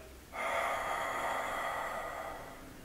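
A long, steady breath is pushed out through the mouth during a Pilates exercise, starting abruptly and fading gently over about two and a half seconds. It is close and clear, with no talking.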